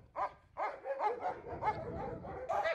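Service dog in training barking repeatedly at a handler in a thick protective bite suit, sharp rhythmic barks and yips at close range.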